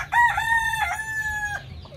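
A Darag rooster crows once nearby, a loud drawn-out cock-a-doodle-doo with a rising start and long held final note, over faint farmyard background.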